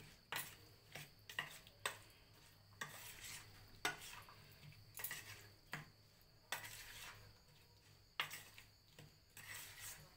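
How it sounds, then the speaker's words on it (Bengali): Spices being stirred into amla (Indian gooseberry) pickle for several seconds: a steady run of quiet, repeated scraping and clinking strokes against the container, close but faint, with no talking. "আমি এটাকে মেশাবো ভালো করে"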